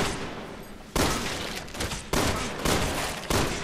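Gunfire in the video game Resident Evil 6, several loud, close blasts, each followed by a long rumbling decay, arriving in an uneven series.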